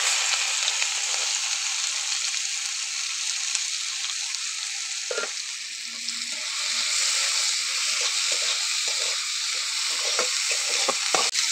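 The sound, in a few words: chopped onions added and frying in oil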